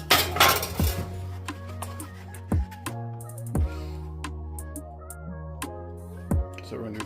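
Eggs cracked one after another against a bowl, several sharp knocks and clinks of shell on the rim, each followed by ringing resonance from the dish, with quiet kitchen handling between them.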